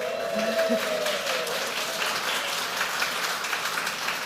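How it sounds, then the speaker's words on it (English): An audience claps in a room after live music as a new speaker steps up. Steady, moderately loud applause from many hands carries evenly for about four seconds with no speech over it. "from the clapping in this room"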